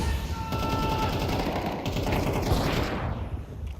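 Rapid automatic AK-47 rifle fire in Counter-Strike during a pro esports match, a loud continuous burst of shots rattling close by, thinning out near the end, with no voices.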